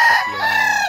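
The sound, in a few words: gray rooster crowing in breeding pen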